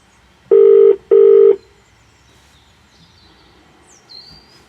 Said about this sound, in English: It's ringing this time.